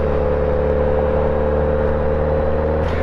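While riding in traffic, a loud, continuous engine drone and road rumble hold steady throughout, with a slight rise in the final moment.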